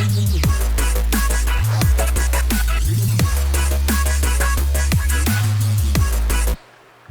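Drum and bass bootleg drop of a Kingdom Hearts song reworked with drumstep drums, with heavy booming sub-bass blocks, punchy kicks and snares and dense synth layers, loud and continuous before cutting out abruptly near the end.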